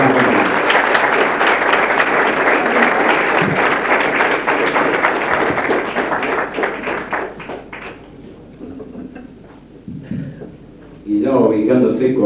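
Applause for a guitarist at a tango show at the Tortoni, a dense wash of clapping from a live audience filling the first eight seconds, then thinning, with a voice speaking and a brief swell near the end.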